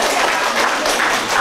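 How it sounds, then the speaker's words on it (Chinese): An audience bursts into sustained applause at the end of a stage performance by new immigrants showing off Taiwanese songs and sayings, a dense, steady clatter of many hands with no voices standing out. "一场表演结束，掌声响起。"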